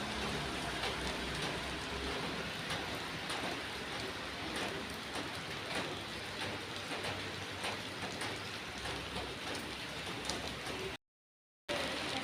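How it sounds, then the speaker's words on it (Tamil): Heavy rain pours without letup in Coimbatore, a dense continuous wash of drops hitting surfaces, steady and fairly close, with a brief dropout near the end. "மழை பாருங்களேன் வந்துட்டே இருக்கு."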